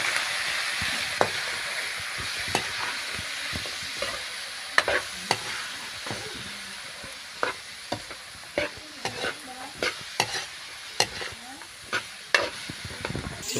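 Mixed vegetables stir-fry in a pan with udon, a steady sizzle broken by repeated sharp scrapes and clacks of a utensil stirring at an irregular pace, close and fairly quiet.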